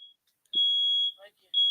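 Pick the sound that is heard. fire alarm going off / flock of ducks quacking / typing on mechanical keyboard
fire alarm going off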